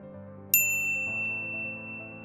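A single bright notification bell ding rings out clearly over a quiet background tone, its metallic shimmer ringing on and slowly decaying.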